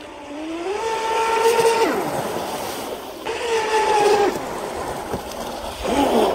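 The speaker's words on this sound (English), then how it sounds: "I love the way this boat sounds." A small Deltaforce 35 RC boat motor whines loudly in rising and falling passes, with splashy water noise underneath as the boat runs close by.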